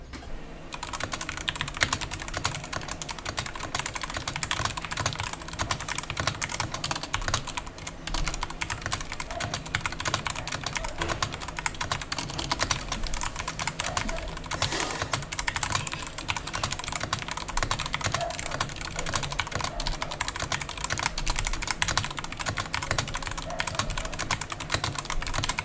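Steady, dense typing on a Royal Kludge RK68 60% keyboard with red linear switches, continuous keystrokes at an even fast pace for the whole stretch, close and clear with no talking.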